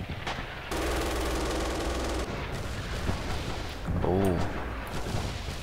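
Artillery fire in a multiplayer video game match, a sustained loud rumbling barrage followed by further booming impacts, with commentators talking over it.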